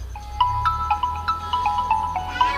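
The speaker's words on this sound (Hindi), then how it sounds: "अरे मुझे फोन आ गया क्या?" A phone ringtone plays a repeating electronic melody of bright, evenly spaced tones, steady and fairly loud, with no talking over it.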